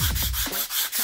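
A wall is sanded by hand during an apartment renovation, scraping away old skim coat in steady, loud back-and-forth rasping strokes, close up and continuous with no talk.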